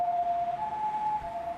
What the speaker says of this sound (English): There are screams and blaring sirens.